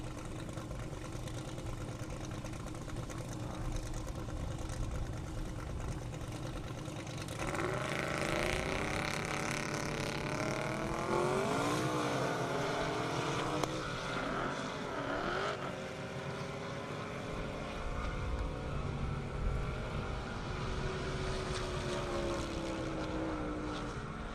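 A 2,000-horsepower Camaro and a BMW 135i race down a half-mile airport drag strip, their engines roaring loudly and continuously, with the pitch climbing through the gears as the cars accelerate away.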